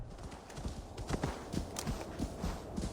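Horse hooves clip-clop in Assassin's Creed Valhalla, a steady run of soft rhythmic hoofbeats, faint and fairly close, with no voices.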